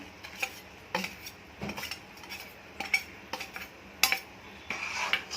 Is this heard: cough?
no